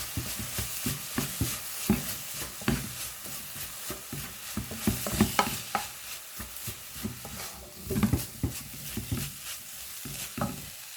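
Beetroot rice with chili flakes is stirred and fried in a pan: repeated scraping strokes of the spoon over a soft sizzle, close and fairly loud, with brief pauses between bursts of stirring.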